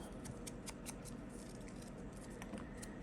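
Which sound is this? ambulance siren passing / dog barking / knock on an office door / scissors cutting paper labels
scissors cutting paper labels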